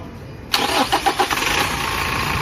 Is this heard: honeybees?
no